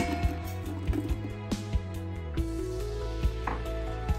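Red onions sautéing in oil in a pressure cooker set to sauté mode make a soft sizzle under clear knocks and clinks of a utensil against the pot, with a steady low hum throughout.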